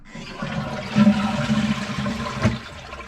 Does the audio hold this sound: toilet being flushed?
yes